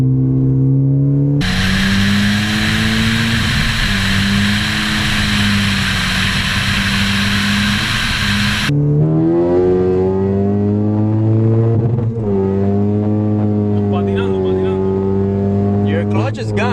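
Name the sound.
car accelerating hard in second gear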